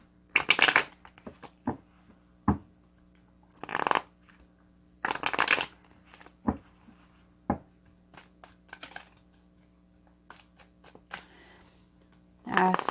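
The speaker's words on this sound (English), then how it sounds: "Let's just do a little shuffling here." A deck of cards is shuffled in several quick riffling bursts separated by pauses, with soft taps and a quiet voice between them.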